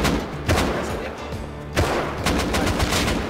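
Gunshots in the Rust video game ring out in loud, sharp bursts, with a cluster near the start and another volley from about the midpoint on, all over a steady game background hum.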